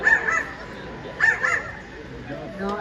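A small green bird at a safari park gives a few short, harsh bark-like calls imitating a dog, close and fairly loud, with a person talking around the calls.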